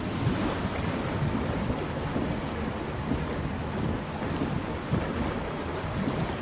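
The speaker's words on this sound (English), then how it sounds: "when you enter the water, you also have a watery sound" Continuous watery rushing and sloshing with low churning swells as a ground vehicle enters water in War Thunder, steady and fairly loud, with no voices.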